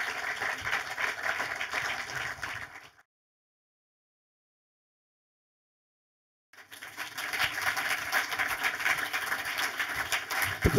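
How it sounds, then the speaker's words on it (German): Audience applause in a German film museum hall greeting a director and producer, dense steady clapping that cuts out into a few seconds of silence before resuming just as strong. "Einen großen Applaus"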